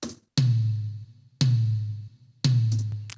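A rock drum tom, tom 1, shaped with EQ and compression behind a gate, struck three times at an even pace, each hit booming low and ringing out in a long decay before the next, with no voices.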